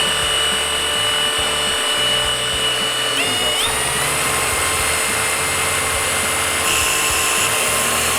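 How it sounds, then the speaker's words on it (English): A polishing machine buffs the skin of a Phenom 100 business jet, giving a loud, steady, continuous mechanical whine and hum that runs unbroken throughout with no talking. "Whenever we're polishing, make sure the machine is flat."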